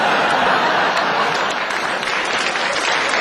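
Live comedy club audience applauding during a stand-up set, dense even clapping filling the room for the whole moment, no speech over it.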